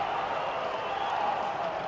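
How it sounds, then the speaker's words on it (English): Crowd noise from spectators at an Oldham v Halifax rugby league match, a steady, broad roar of cheering and some applause that holds level throughout, with no individual voices standing out. "That's got the crowd going."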